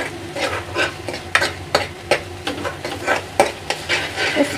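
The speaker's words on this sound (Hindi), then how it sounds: "प्याज अदरक लहसुन टमाटर का पेस्ट है, इसको अच्छे से भूनने से ही टेस्ट आता है" Onion, ginger, garlic and tomato paste frying in a pan for a Punjabi-style potato and aubergine curry, with steady sizzling and repeated scraping strokes of a ladle stirring it, close and clear, no talk.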